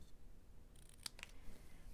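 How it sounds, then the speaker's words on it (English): Scissors cut through paper to trim an edge straight, a few quiet, crisp snips close by against a soft hushed background. "we're going to trim this off so it's straight."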